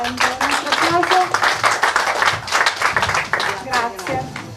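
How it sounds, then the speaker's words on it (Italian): An audience applauding at an awards ceremony as a special prize is given, steady clapping from many hands with a voice talking over it. "Un altro applauso."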